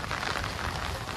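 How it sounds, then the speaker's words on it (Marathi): Heavy rain driven by stormy wind on the coast at Satpati near Mumbai, a dense, steady roar of downpour with no pauses and no voices. "हे पहा मित्रांनो किती जोरदार पाऊस वादळी वारा आहे"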